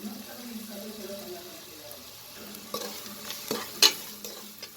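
Homemade masala powder roasting in a pan on medium flame for biranji rice, a soft dry sizzle with scraping stir strokes and a few sharp spoon clinks near the end.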